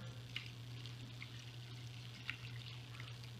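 Water poured over pork in a pot for Filipino pork adobo, a faint continuous pouring trickle under a steady low hum.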